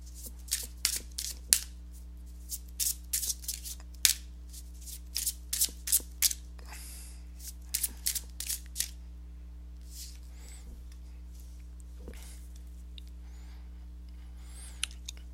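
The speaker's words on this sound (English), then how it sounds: "let me go ahead and give these cards a shuffle" Repeated crisp riffles and flutters of tarot cards being shuffled in quick bursts, close up, with brief pauses between and a low steady hum beneath.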